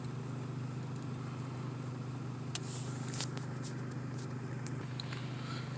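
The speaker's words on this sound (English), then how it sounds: "And that's sitting in the car with the AC running." A car idling with the air conditioning running, heard from inside the cabin as a quiet, steady low hum and broadband fan hiss, with a few faint small clicks and no talking.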